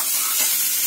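Two sliced onions sauté in a pan, a steady, loud, close sizzle with a bright hiss and no break.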